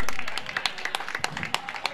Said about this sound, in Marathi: जरा जोरदार टाळ्या कुलदीप साठी